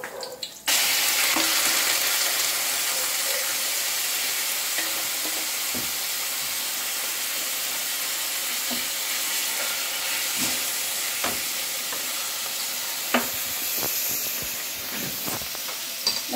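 Meat stir-fried in a pan for a Korean spicy chicken stir fry, a steady loud sizzle running throughout with scattered clicks and scrapes of stirring.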